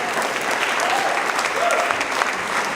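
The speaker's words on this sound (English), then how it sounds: "So you all should applaud for that." An audience at a peace event claps steadily in a sustained, even burst of applause, fairly loud and without speech.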